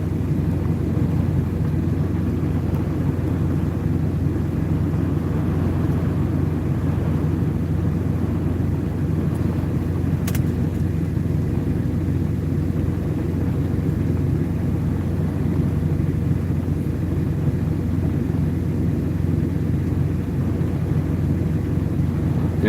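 A truck's auxiliary power unit running during a rainstorm, a steady low rumbling drone that holds constant, with one brief sharp tick partway through.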